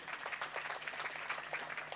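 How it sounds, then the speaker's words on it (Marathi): Audience applause at a kirtan, a dense, steady patter of many hands clapping together for the full two seconds at moderate level, with no voices rising above it. "एकदा जोरदार टाळ्या होऊन जाऊ देत"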